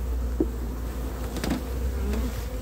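A dense, steady buzz of many honeybees close by at hive frames, continuous throughout with no talking.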